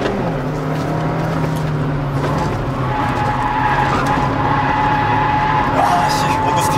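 Kia New Pride 1.6 manual front-wheel-drive car oversteering on the Inje Speedium race track, tires skidding with a sustained squeal over steady engine drone, while people talk inside the car.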